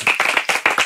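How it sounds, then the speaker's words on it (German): A small group clapping in a podcast studio, a brief run of quick, uneven hand claps close to the microphone. "Applaus für die iranische Frau."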